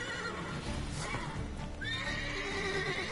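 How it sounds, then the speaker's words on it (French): A horse in The Witcher 3 neighs in a rising, shrill whinny near the end, preceded by clip-clopping hooves and game ambience, loud and close with no talk over it. "Je crois que c'était mon cheval."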